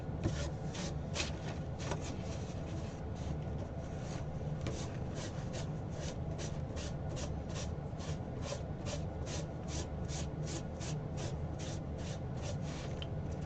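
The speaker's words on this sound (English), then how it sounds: "now I'm just going to sand it" Steady rhythmic scraping of hand sanding, even back-and-forth strokes repeating at a regular pace, close and continuous with no talking.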